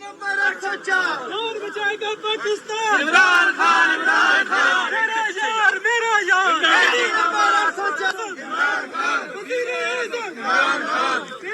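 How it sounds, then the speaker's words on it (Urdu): A crowd chants slogans in rhythmic bursts at a late-night street rally in the lanes of Sargodha, many voices shouting together close by and loud, with overlapping calls between the chants. "یہ جناب رات گئے سرگودا کے گلی کوچوں میں یہ نعرے لگ رہے ہیں"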